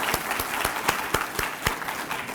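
Applause at an inaugural address, a crowd clapping steadily with several loud, distinct close claps punctuating the rhythm at regular intervals.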